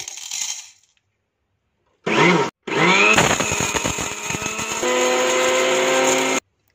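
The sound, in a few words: grinder freshly grinding black pepper with cinnamon and cloves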